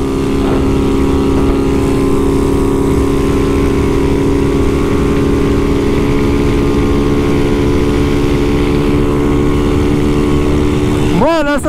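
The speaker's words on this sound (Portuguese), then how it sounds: "Ó, a minha moto tá com força" A Honda Fan 150 motorcycle on a road trip to the beach gives a steady engine drone while riding, loud and close with continuous wind rush, and a voice comes in at the very end.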